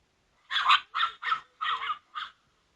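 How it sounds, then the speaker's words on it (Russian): Dogs give five quick barks in a rapid sequence, close and moderately loud, with no other sound around them. "Собаки."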